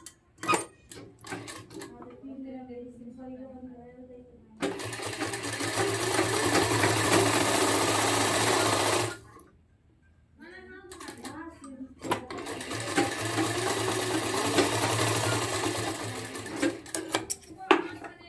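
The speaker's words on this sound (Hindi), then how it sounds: "रखने के बाद अब आपको स्टिच कर लेना है।" A sewing machine stitches a blouse in two long, steady runs, its close, even whir starting and stopping, with brief speech before and between the runs.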